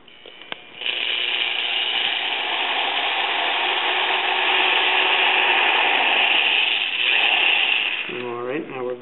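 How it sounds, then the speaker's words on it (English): A reamer turns inside a wet double reed, giving a steady, continuous whirring grind that holds at an even level for several seconds and then stops, followed by a brief voice. "We're going to use the reamer to hollow out the inside of the reed."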